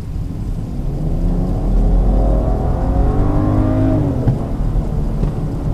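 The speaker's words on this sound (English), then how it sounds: "I'm in Eco Pro mode. Let me just show you the pull of this car." A BMW X4 xDrive35i accelerates hard in Eco Pro mode, its engine note swelling and climbing in pitch through rising harmonics, heard from inside the car with no talking.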